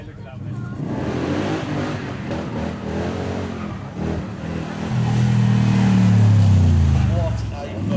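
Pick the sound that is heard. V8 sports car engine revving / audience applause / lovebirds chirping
V8 sports car engine revving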